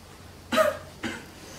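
A girl coughs twice indoors at home, two short separate coughs half a second apart, the first louder, close and otherwise quiet.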